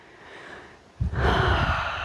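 Audible breath during a yoga flow session while holding warrior two pose, a soft exhale followed by a fuller, louder breath close to the microphone, with no talking.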